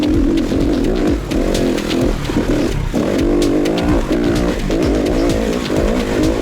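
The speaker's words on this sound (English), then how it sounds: "This is definitely an enduro engine." An SWM RS300R enduro motorcycle with a small four-stroke engine, remapped ECU and Arrow exhaust, revs loud and close, its engine note rising and falling continuously throughout with no talk over it.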